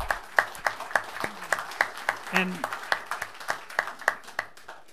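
Audience clapping at a city council meeting in Oroville, steady applause from the room mixed with a few voices talking, moderately near.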